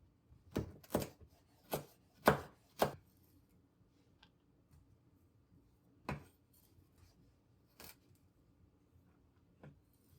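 Knife chopping carrots on a board for homemade chicken soup: a cluster of five sharp, close chops, then a pause and three more spaced cuts, with no voices.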